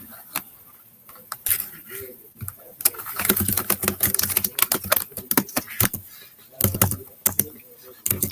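Rapid bursts of typing on a computer keyboard, close and crisp, with irregular clusters of key clicks separated by short pauses.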